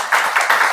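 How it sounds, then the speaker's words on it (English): Audience applause in a hall, a short burst of dense clapping heard up close. "so a round of applause for you too"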